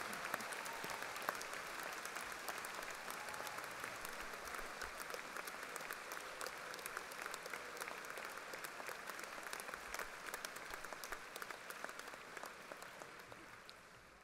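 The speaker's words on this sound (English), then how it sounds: "let's give them all a big round of applause." A large audience at the National Science Olympiad opening ceremonies applauds sponsors and volunteers with a sustained, evenly textured wave of clapping that lasts about fourteen seconds and sounds distant and soft.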